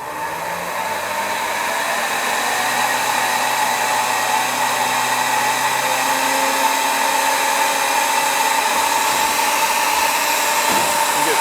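A Gorilla G2 carpet cleaning machine with pump and clutch runs at a steady high whine and whir, loud and continuous, with a low tone rising early on as it comes up to speed.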